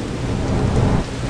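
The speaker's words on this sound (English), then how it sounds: "Looks maybe like our friends came in here to take shelter from the rain" Steady rain with low rolling thunder in the video game Battleblock Theater, a dense continuous wash of rainfall under a deep rumble lasting throughout, with no voices.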